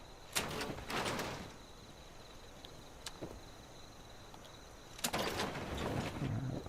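Door opened by a switch in Fallout 4, with two bursts of sliding, hissing door movement separated by quiet ambience and a few sharp clicks.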